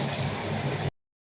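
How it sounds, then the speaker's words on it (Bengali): Water poured into a pot of pumpkin curry with potato and drumsticks, a short splashing pour of under a second that cuts off abruptly into silence. "একটু জল দিয়ে দেবো"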